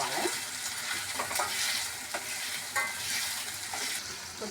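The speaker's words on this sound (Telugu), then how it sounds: "కొంచెం బాగా పచ్చివాసన పోయే వరకు ఫ్రై చేసుకోవాలి." Curry masala frying in a pan while being stirred, a constant close sizzle broken by repeated scraping strokes of the spoon at an uneven rhythm, with no talk.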